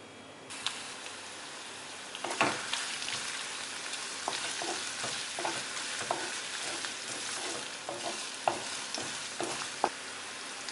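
Ginger and garlic fry in oil in a kadai, a steady close sizzle with repeated sharp spatters and the scrape of a stirring spoon scattered across the whole stretch, no one talking.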